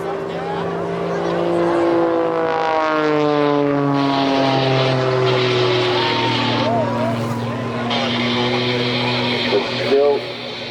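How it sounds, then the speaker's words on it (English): A Pitts aerobatic propeller plane at an airshow drones loudly overhead, its engine pitch sliding and shifting as power changes, while an announcer talks throughout. "Now watch it as he pulls the power back on the aircraft and just hangs in the air with the propeller"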